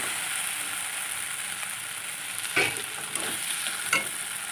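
Onion and spice paste with fresh coriander leaves sautéing in a pan for a Bengali fish curry, a steady close sizzle with a few scraping stirs of a spoon, no voices.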